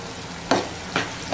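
Curry leaves hit hot oil with cooked tomato and onion for egg tawa masala, giving three sharp close bursts of sizzling and stirring spaced under a second apart over a low steady fry.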